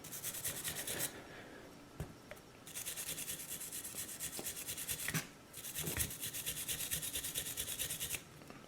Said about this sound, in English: So we're gonna go ahead and hit it quickly with the brush.